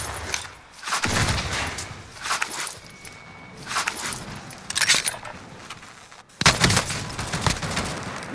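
Bursts of automatic gunfire and scattered shots ring out in a Call of Duty: Warzone match, with footsteps and gear rattling between volleys.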